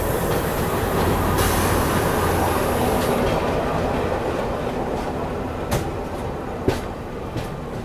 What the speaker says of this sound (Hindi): अभी बगल में देखो शंटिंग चल रही है एलटीटी मुंबई पाटलिपुत्र सुपरफास्ट की